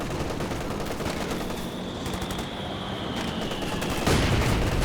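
Sustained machine gun fire in the World War II strategy game Company of Heroes 2, a dense, continuous rattle of battle noise with a louder burst near the end, no voices.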